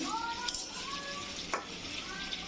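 A soft steady sizzle of flat beans and potatoes frying in a pan, with a few light scrapes of stirring, close and fairly quiet.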